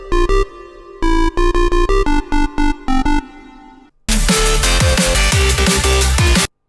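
Synth lead recreated in the Serum synthesizer: a run of short rhythmic bright stabs with gaps, a brief pause, then a dense sustained full passage, loud and alone.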